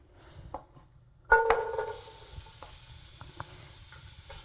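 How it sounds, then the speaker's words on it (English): Onions hit warm olive oil in a medium pan and burst into a bright sizzle, then settle into a steady, softer frying hiss with occasional stirring clicks. "We'll put about 2 tablespoons of olive oil, and we'll add the onions to it."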